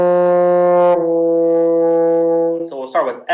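A baritone horn holds a sustained F, then slurs down smoothly to E natural without re-articulating, a steady rich tone that ends as a brief vocal sound comes in at the close.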